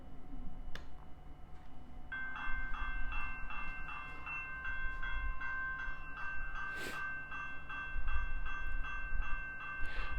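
A railroad crossing bell played from track 2 of an electronic bell module, a rapid, even series of ringing metallic dings repeating steadily for several seconds, close and clear over a low background hum.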